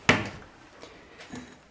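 A kitchen door swings open during a puppet cooking demonstration: one sharp, moderately loud knock at the start, followed by two fainter creaks or taps about half a second apart.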